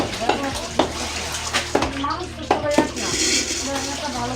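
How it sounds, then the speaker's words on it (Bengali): Chicken pieces are washed in cold hand-pump water in a big pot, with sloshing water and repeated metallic clanks and knocks of the pot, close and busy throughout. "বড় পাতিলে নিয়ে চাপকলের বিশুদ্ধ ঠান্ডা পানিতে পরিষ্কার করে ধোয়া হয় মনকে মন মুরগির মাংস"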